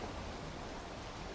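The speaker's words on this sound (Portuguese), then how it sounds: "é que tá de noite e tá chovendo" Steady rain falling at night in the video game Valheim, a soft, even hiss of rainfall with no distinct drops, quiet and continuous with no talk.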